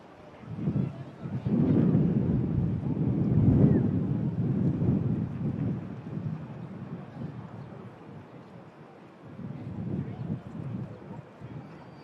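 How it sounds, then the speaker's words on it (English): A Ryanair Boeing 737 arriving from Rome lands at Manchester Airport in blustery conditions, giving a low, broad jet rumble that swells and fades, mixed with gusting wind noise on the microphone. "On the final 100 feet now is this Ryanair 73 coming in from Rome."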